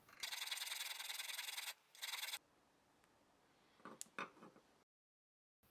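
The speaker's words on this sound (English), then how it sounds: "I'll just sharpen the base cutter on the other side," A flat file sharpens the base cutter of an Irwin brace bit with several quick, close rasping strokes, then a pause and a few faint, scattered scrapes before everything goes quiet.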